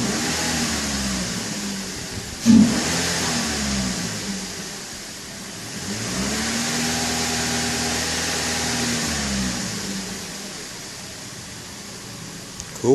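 A 2009 Toyota Corolla engine is revved from idle, swelling and falling back twice at moderate loudness over a steady hiss.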